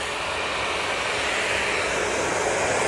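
A Jet2 airliner, the Grey Lady, rolls onto the active runway at Manchester Airport. Its engines make a loud, steady broadband roar that fills the whole stretch without a break, with no voices over it.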